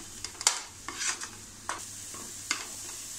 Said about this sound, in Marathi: हे वाटण आपल्याला 2-3 मिनटं छान असं परतून घ्यायचं आहे, मध्यम गॅसवर परतून घ्यायचं आहे